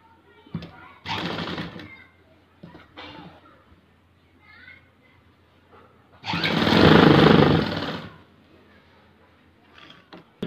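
A sewing machine stitches along a folded one-inch fabric hem of chudidhar pants in short bursts, with a long loud whirring run in the middle and brief bits of speech between.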